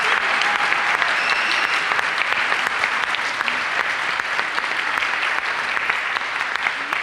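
Congregation applause during a church sermon, dense and sustained clapping from many people filling the space evenly for several seconds, close and fairly loud with no speech over it.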